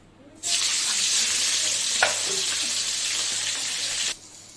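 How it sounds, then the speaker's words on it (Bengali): Dried red chillies and cumin seeds hit hot oil for tempering in a fish-head and greens dish, setting off a loud, close, hissing sizzle that holds steady for about four seconds with one small clink, then cuts off abruptly. "শুকনো লঙ্কা ফোড়ন দিয়ে দিয়েছি এই যে দিয়ে দেবো জিরা ফোড়ন"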